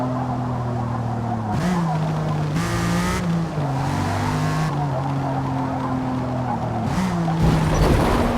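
Race car in the Forza Motorsport video game holds a loud, continuous engine drone while braking through a turn, its pitch dipping and rising with gear changes, with faint tire noise and no speech.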